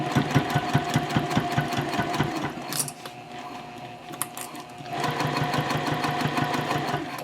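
Domestic sewing machine stitching a backpack lining along a curve, rapid rhythmic needle chatter in steady bursts, briefly pausing midway before resuming, with no talk.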